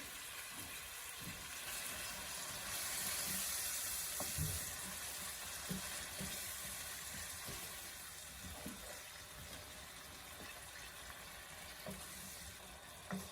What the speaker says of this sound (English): Turn up the heat and let this simmer